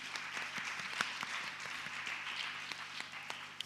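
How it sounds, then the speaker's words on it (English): At a Girl Child Summit, an audience claps for an executive director in a steady, soft patter of many hands, heard from some distance over a low electrical hum. "Let's clap for her."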